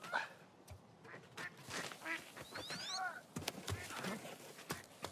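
Duck quacks in a music remix, a run of several quick nasal calls over a busy rhythmic backing, fairly faint in the mix.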